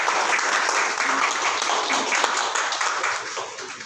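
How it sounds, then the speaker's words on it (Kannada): Applause from an audience at a certificate ceremony for Kotak Mahindra financial advisors, dense steady clapping that stays loud throughout. "ಚಪ್ಪಾಳೆ ಅವರಿಗೆ"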